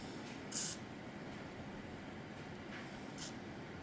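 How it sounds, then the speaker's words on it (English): A short hissing spray of cleaner bursts out onto an HK VP9SK pistol, followed later by another brief spritz, faint against a low steady background hum. "we're going to spray that just a little bit"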